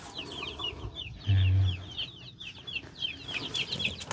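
Several chickens cluck and chatter nearby in quick, overlapping calls, with a brief low thump partway through.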